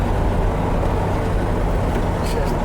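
A big block Corvette, back on the road after decades in storage, drives along with a steady, loud engine drone and broadband road noise throughout, voices talking over it.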